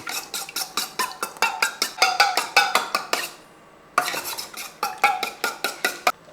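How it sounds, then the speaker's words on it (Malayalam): Raw egg cracked into a bowl and beaten with a spoon for Kerala-style egg puffs, a fast run of sharp clinking strokes against the bowl, close and loud, pausing briefly before the rhythmic beating resumes. "അപ്പോൾ ഈ മുട്ട ഒരു സ്പൂൺ കൊണ്ടോ അല്ല എന്തെങ്കിലും കൊണ്ടൊന്ന് ഉടച്ചെടുക്കണം"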